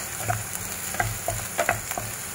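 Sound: onion, garlic and carrot spring roll filling frying

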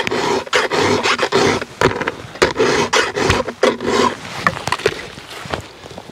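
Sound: hand file sharpening a saw

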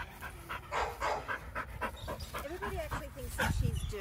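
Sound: shelter dog panting

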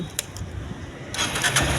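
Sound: Honda X-Blade motorcycle engine self-starting

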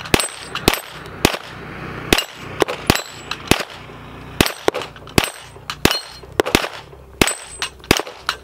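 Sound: 9mm pistol shots with 150 grain bullets

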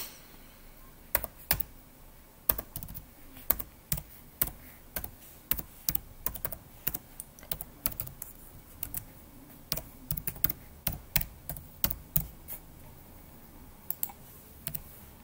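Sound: typing email address on computer keyboard

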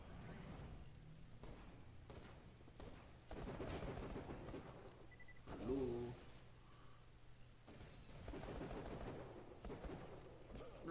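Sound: gunfire in video game Borderlands The Pre-Sequel

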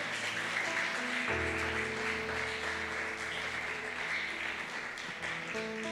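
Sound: congregation applauding as offering

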